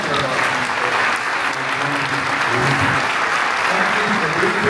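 Applause from the audience for the preschool director at a moving-up ceremony, a loud, continuous crowd clapping with some cheering and voices mixed in throughout.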